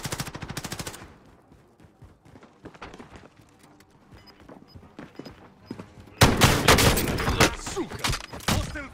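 Automatic gunfire in a Call of Duty Modern Warfare match on Rebirth Island, with a rapid burst at the start, sparse scattered shots through the middle, then a loud, dense volley of firing near the end.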